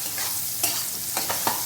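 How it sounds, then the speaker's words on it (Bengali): Mushrooms stirred and frying in a pan, a steady sizzle throughout with a few distinct scraping strokes of the spoon, close and fairly loud, no voices. "আমি ভালোভাবে নাড়তে থাকবো কিছুক্ষণ ধরে, সময় ধরে ভাজতে হবে"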